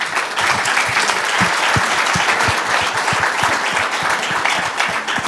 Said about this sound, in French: Merci aux panélistes qu'on peut applaudir.